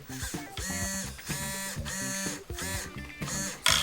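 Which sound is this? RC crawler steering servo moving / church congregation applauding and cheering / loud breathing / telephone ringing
RC crawler steering servo moving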